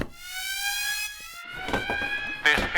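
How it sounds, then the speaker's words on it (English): A loud electronic alarm siren sound effect, a wailing tone sweeping in pitch, followed by crashing bursts and a brief voice near the end. "I'm just going to have to press the official PlayStation Access hype alarm."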